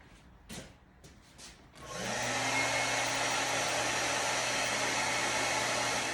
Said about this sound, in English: And then I hit it with a hair dryer.